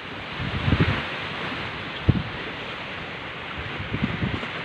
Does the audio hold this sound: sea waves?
yes